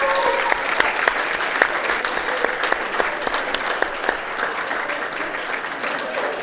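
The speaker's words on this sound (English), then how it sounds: "Give them a round of applause." A basketball tournament crowd applauds the runner-up team, the ECTC Barons, at the 2019 WKCTC Invitational: sustained clapping with sharp individual claps popping out above the steady roar, a murmur of voices underneath.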